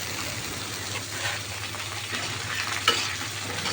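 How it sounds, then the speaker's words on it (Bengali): Dried shrimp, potatoes, pumpkin and long beans fry in oil in a pan, giving a steady close sizzle with soft stirring scrapes throughout. "চিংড়ি শুটকিগুলো লাল লাল করে ভেজে নিয়ে এবার দিয়ে দিব আলু মিষ্টি কুমড়া বরবটি"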